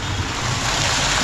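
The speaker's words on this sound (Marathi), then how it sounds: "पाण्याचा आवाज येतो इकडे" Water washing against a village shore at Bhonang near Alibaug, a loud steady rush of waves mixed with wind buffeting the microphone, heard briefly and close with no talking.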